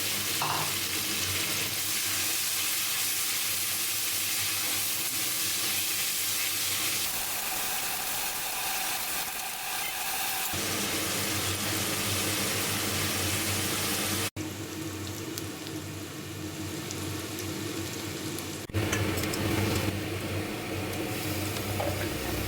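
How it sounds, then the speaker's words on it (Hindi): Finely chopped onions fry in a kadai for a red chicken curry, a loud, steady sizzle close by that shifts now and then with stirring, with no talking. "उसके बाद बारीक कटे हुए प्याज डाल दीजिए कढ़ाई में।"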